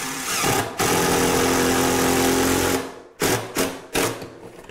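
A power driver sinks a screw into wood while a kitchen cabinet is being hung, a steady loud whirring for nearly three seconds followed by several short bursts as it finishes.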